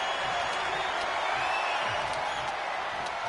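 A large wrestling video game crowd cheers and roars steadily, a dense wash of voices with occasional whoops poking through.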